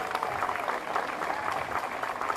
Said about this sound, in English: You can clap for that, folks.